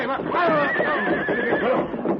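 A horse in an old western radio drama whinnies loudly and shakily for about two seconds, close and prominent, with a voice speaking over it.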